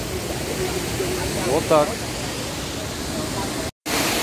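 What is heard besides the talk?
waterfall in Sapa, Vietnam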